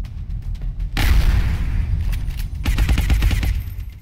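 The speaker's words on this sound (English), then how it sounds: "We can probably shoot you once in the face with a shotgun." Gunfire from a shotgun in the turn-based alien strategy game XCOM Long War: a sudden loud blast bursts in, then a rapid rattling volley of shots follows, close and dense, with no talking.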